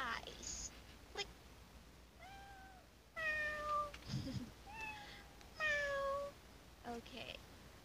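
Cat meows play from a tapped picture in a language-learning app, several short rising tones in a row with a teacher's voice speaking between them.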